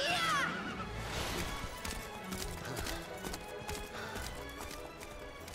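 Horse hooves clip-clop at a quick running pace over a dense, noisy background, fairly loud and continuous throughout.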